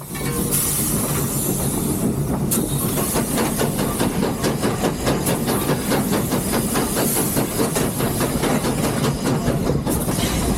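Steady rhythmic chuffing of a coal-fired steam locomotive laboring uphill at about 15 mph, with continuous hiss and rumble throughout.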